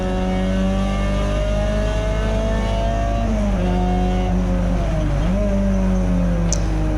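A Peugeot 206 GTI race car accelerates hard out of a hairpin on a wet circuit, its engine loud and close with a steady rising drone and brief dips in pitch as it shifts.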